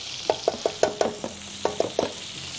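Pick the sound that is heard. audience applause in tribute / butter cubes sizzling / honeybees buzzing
butter cubes sizzling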